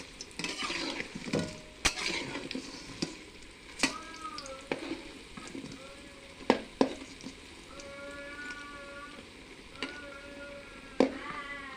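Fritters (bada) frying in oil, a soft steady sizzle broken by sharp clinks and scrapes of a utensil turning them in the pan, with no voices.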